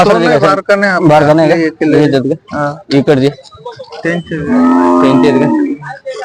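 A calf at a weekly cattle market moos loudly and repeatedly up close, a series of drawn-out bleating calls with short gaps between them.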